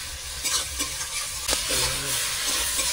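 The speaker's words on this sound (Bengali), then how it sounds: "একদম লাল লাল ঝাল ঝাল মশলা কষানো চলছে" Red spice masala for chicken being stirred and sautéed in oil, a close steady sizzle broken by scraping spatula strokes and soft clinks against the pan, with no voices.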